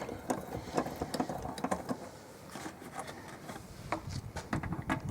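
A bolt holding the intake box is removed on a 2015 Ford Mustang EcoBoost turbo, with quiet, continuous rapid ratchet clicking close by throughout.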